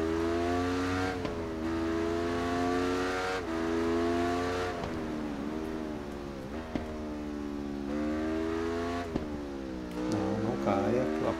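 Motorcycle engine racing in Ride 3 on PS5, revving hard with repeated rising pitch sweeps and gear shifts, a steady loud drone with brief dips between shifts.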